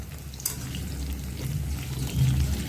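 Besan pakoras with green chillies, coriander and curry leaves fry in hot oil, a soft continuous bubbling sizzle heard close and alone.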